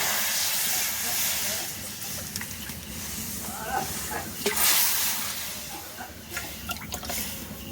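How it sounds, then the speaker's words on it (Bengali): Water bubbling and hissing at a boil in a wok on the stove, salted water for making pitha dough, a steady broad rushing hiss with a few brief clinks and knocks. "জলটা টকবক করে ফুটছে"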